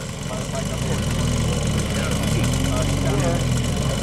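A Kawasaki 500 H1 motorcycle idles close by with a steady, busy two-stroke rattle and drone, and a voice talks over it throughout.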